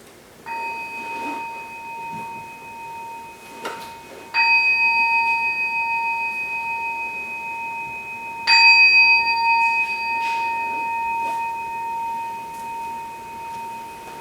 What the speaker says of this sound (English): I'll ring the bell at the start of session.